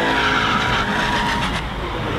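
A car brakes hard, its tires screeching and skidding loudly and continuously over engine noise, close by.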